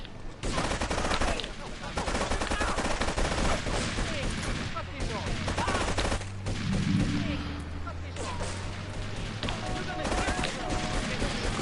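Shotgun fire in the video game Grand Theft Auto III, Definitive Edition: loud, dense blasts packed tightly together into a near-continuous barrage that runs the whole stretch, with a low engine-like drone underneath.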